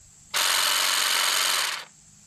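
A Saker cordless hedge trimmer switches on with a sudden loud buzzing whir, runs steadily for about a second and a half up close, then cuts off and winds down.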